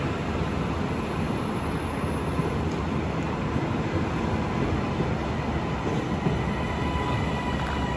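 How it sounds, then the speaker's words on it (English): A train on the London to Windermere route rumbles along steadily, a loud continuous roar with faint high squeals from the wheels and no talking. "now I have to take this train"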